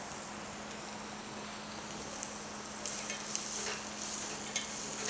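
Beans and vegetables for a vegetable soup frying in a pan, giving a steady, even sizzle with soft hiss and occasional faint crackles and stirring scrapes, close by and without talk.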